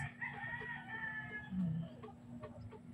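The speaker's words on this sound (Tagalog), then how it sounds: "Amuna kapalangga ang mga manok namon." Backyard chickens calling near feeding time, a rooster's drawn-out crow rising over soft clucks and scattered short hen calls, fairly faint and somewhat distant against a low steady background hum.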